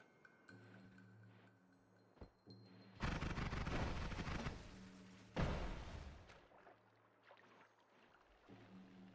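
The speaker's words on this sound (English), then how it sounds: "These explosions are so satisfying." Explosions in the video game Noita, two loud broadband blasts each rumbling for about two seconds, set against a quieter game background with a few small pops.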